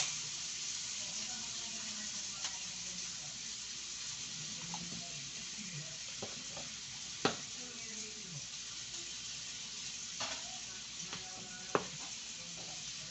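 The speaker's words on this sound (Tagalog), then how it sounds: "Hindi pa tapos prituhin." Pork fries in a pan with a steady, soft sizzle that continues throughout, broken by a few faint clinks and scrapes of stirring, with no talking.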